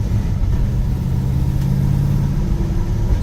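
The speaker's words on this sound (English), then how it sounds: "That LS3 sounds amazing." LS3 V8 in a 1967 Chevrolet Malibu running at a steady low rumble, close and loud with a constant deep drone and no voices.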